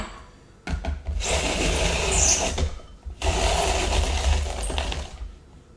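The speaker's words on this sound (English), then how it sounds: "So I have 2 peeled carrots that I'm shredding right now." Two peeled carrots are shredded in a Cuisinart electric grater, which runs with a loud motorized grinding whir in two bursts of about two seconds each, separated by a short pause, heard up close with no speech.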